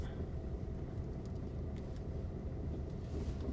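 Car driven by a learner, its engine a steady low rumble heard from inside the cabin, with faint rattles and no clear speech.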